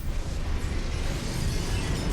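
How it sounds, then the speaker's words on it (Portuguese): An explosion in the video game CloudPunk: a sustained, heavy low rumble with crackling debris that fills the whole two seconds at steady loudness, with no voices. "Explodiu."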